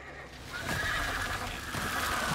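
A horse neighs in a fantasy TV series, a broad whinny rising over a steady dark ambient bed and holding for a couple of seconds, with faint hoof-like thumps low in the mix.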